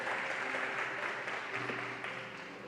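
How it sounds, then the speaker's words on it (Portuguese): A church congregation applauds during a Portuguese-language service, a dense, even wash of clapping that holds steady and eases slightly toward the end, with no voices over it. "Você pode aplaudir a Ele nessa noite?"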